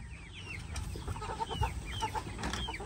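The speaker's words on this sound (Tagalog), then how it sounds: "The chickens are hungry now." Farm chickens cluck and chirp softly in the background on a quiet farm, with scattered faint calls over low ambient noise.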